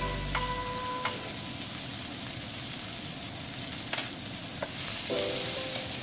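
Chicken stir-fried in a pan with salt, a steady broadband sizzle throughout with a few brief scraping stirs and faint clinks, growing slightly louder near the end.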